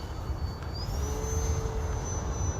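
An H-King Edge 540T RC model airplane flies at about three-quarter throttle, its electric motor producing a steady high whine that climbs in pitch and then holds over a windy, rumbling background, with no talk.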